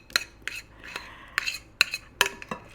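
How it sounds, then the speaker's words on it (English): A utensil scraping and tapping a bowl to get out a chocolate dessert mixture of cream cheese, powdered sugar and whipped cream, about six close, separate clinks and scrapes with short pauses between. "we want to make sure we get all of it out of the bowl"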